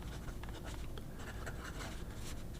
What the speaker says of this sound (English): P36 with a Bach nib, I think a broad. Let me see if it writes.